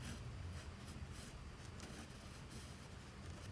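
Faint, continuous scratching of a coloring pen rubbing over paper while filling in a drawing of the Fortnite Mini Scar weapon, with quiet, even strokes.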